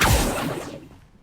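Magical whoosh of a Revelio spell cast in Hogwarts Legacy, a bright sweeping burst that starts loud and decays smoothly within about a second.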